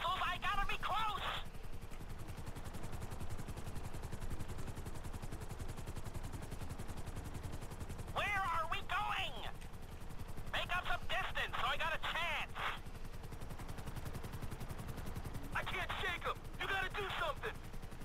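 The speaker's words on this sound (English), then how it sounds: "Get me closer and I'll shoot them!" Scattered gunshots and bursts in Grand Theft Auto V, mixed into a busy game soundscape with a constant engine-like drone, while voices talk in several short stretches.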